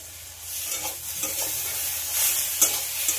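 Eggplant and potato fry with chopped tomato and green chillies in a pan, giving a steady close sizzle broken by scraping stirs and occasional soft taps.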